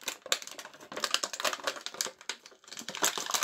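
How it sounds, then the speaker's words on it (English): A My Little Pony Pinkie Pie seapony toy is pushed out of its plastic packaging, giving close, crackly plastic crinkles and sharp clicks in rapid irregular bursts, with no voices. "We just need to pop her out of the plastic."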